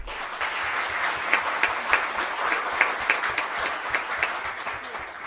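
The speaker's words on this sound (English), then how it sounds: "Another round of applause for Ms. Sutton." An audience at a school board meeting claps steadily throughout, a dense, even round of applause with a few sharper individual claps standing out near the front.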